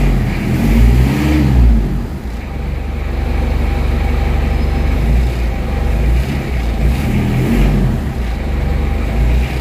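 A car engine idling steadily at about 2000 RPM with low power after running out of engine oil, a loud continuous drone with no talk.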